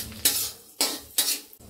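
Sliced carrot, beans and green chillies go into a hot pan for egg fried rice, with three or four sharp metallic clinks and scrapes of a spoon against the pan over a faint sizzle, close and loud with no talking.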